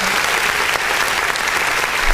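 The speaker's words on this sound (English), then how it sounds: "Give them a round of applause for that." Dense, steady applause from a podcast audience for a newly engaged couple, loud and continuous throughout without a break.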